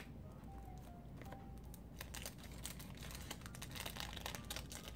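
Packaging of Dunhill Desire perfume from 2001 being opened, quiet crinkling and rustling of cardboard and wrapping with a few soft crackles, close and faint, no speech.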